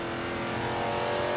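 Souped-up transit van in Forza 5 with a swapped 5.7 liter V8, centrifugal supercharger and race exhaust, engine roaring steadily under load in a brief, loud burst.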